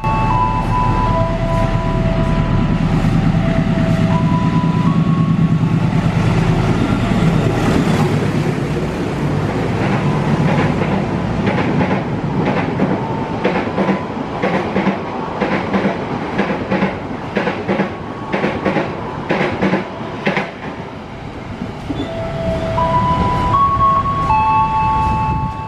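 A Sembrani passenger train rolls past at a railway line, its wheels drumming a steady clickety-clack over the rail joints with a deep rumble, as a horn-like tone sounds at the start and returns near the end.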